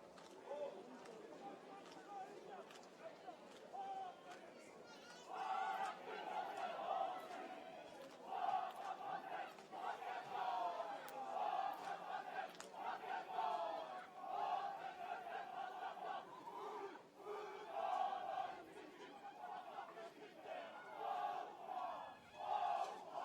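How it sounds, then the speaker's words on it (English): The New Zealand team performs the haka before an international final, rhythmic shouted chanting from a group of voices, with loud rhythmic outbursts, heard at a distance through a stadium's ambience. "And here it is, the haka of New Zealand."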